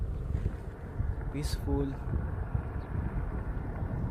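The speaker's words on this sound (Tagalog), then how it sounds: "Naririnig mo lang yung mga paspas ng hangin." Wind rushes steadily past during a ride on a Yamaha Lexi 155 scooter through quiet provincial countryside, a continuous low buffeting roar with a single brief spoken word partway through.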